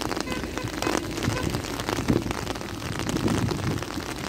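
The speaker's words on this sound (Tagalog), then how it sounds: "Lakas na ng patak ng" Heavy rain pours down in a dense, steady hiss, drumming on surfaces nearby with no pauses.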